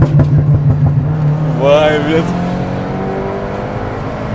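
A VW Bora with a straight-pipe exhaust revs near 4000 rpm, its steady engine drone running under people talking and sweeping upward briefly in the middle.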